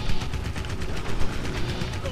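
Rapid automatic gunfire from enemy soldiers in the co-op vehicle shooter Renegade Ops, a dense, continuous crackle of shots running throughout under a player's voice and game noise.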